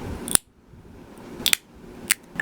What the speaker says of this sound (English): take your jewelry cutters or a pair of scissors and trim the popsicle sticks down